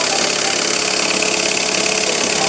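Small model steam engine running at a steady clip while driving a little homemade dynamo, a loud, even mechanical chuff and whir with no pauses.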